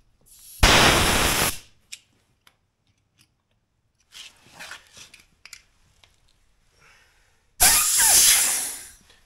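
Short bursts of residual air hiss out of a tire inflator hose, one loud rushing blast near the start and another near the end, with faint handling clicks and rustles between them.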